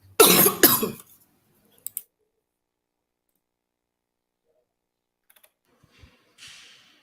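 A single harsh cough at the start, then near silence with a few faint clicks and a soft rustle later.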